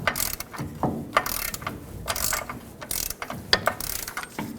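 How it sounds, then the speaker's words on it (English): A ratchet on a 32 mm socket tightens a new ball joint mounting nut on a 2011-2016 Ford F-350, giving a string of close, sharp clicking bursts with short pauses between strokes and no talk. "This new mounting nut is a 32 millimeter, so put a socket on it and bottom it out."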